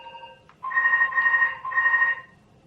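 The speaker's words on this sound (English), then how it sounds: "It's not my phone, so I don't answer it" A phone rings nearby in steady electronic warbling bursts, a brief chirp first, then two longer trilling rings separated by a short gap, over faint room hum with no talking.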